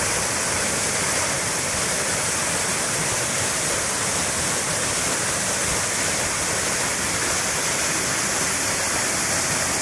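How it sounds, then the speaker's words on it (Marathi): Channat waterfall in Mangaon pours in a steady, loud, unbroken roar of falling water that holds even and continuous from start to finish, with no voices over it. "मित्रांनो या वॉटरफॉलचे दृश्य पहा किती मनमोहक आणि एकदम सुंदर असं दृश्य आहे"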